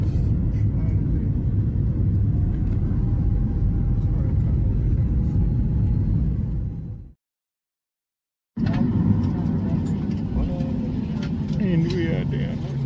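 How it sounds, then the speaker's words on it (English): An airplane landing at the small Ushuaia airport: a loud, steady cabin rumble that cuts out abruptly for a moment and then resumes, rough and continuous, with faint rattles toward the end. "Bit of a bumpy ride there, but on the tarmac at the little Ushuaia airport"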